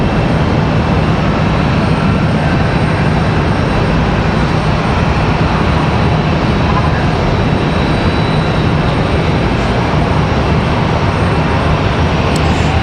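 An Airbus A320 arriving at Raleigh-Durham airport from Minneapolis, heard as a loud, steady, broadband jet engine roar that holds for the whole stretch without pause.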